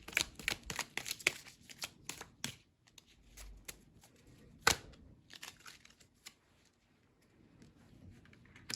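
Tarot cards are shuffled close by in bursts of riffling and snapping flicks, with a sharp slap near the middle and softer handling after it, then quieter rustles toward the end.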